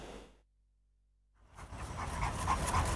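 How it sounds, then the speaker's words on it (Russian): A stray dog panting outdoors, rapid breathy huffs that rise in after a brief silence and keep going close and steady to the end. "Бездомные собаки заполонили Мирный."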